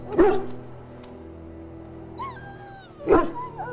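Dog in a pen in Dragon Age Origins whimpering and yipping, two sharp close barks separated by a rising, drawn-out whine, over a quiet low background hum.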